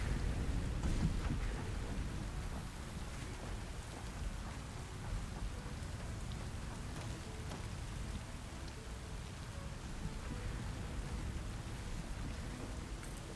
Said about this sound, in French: je crois que c'est la première fois que je vois la pluie